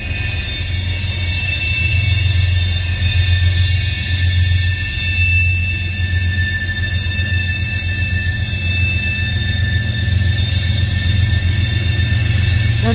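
CN freight train climbing a grade near Ladysmith in a 2x1 distributed power configuration, with the DPU locomotive throttling down. Heavy, steady low diesel rumble and rolling car noise hold throughout, with faint wheel squeal on top and no talking.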